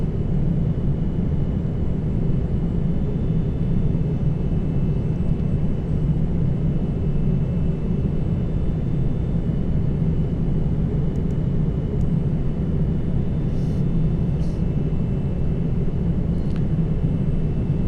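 Boeing 787-9 engines at throttle-up in the X-Plane 11 flight simulator, a steady, loud jet roar and rumble holding constant with a faint whine and a few small clicks.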